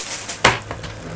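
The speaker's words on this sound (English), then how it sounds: "I whip out my chopping board. A lovely little bit of steak right here." A knife strikes a chopping board holding a piece of steak, one sharp close thud followed by a softer tap, over low room noise.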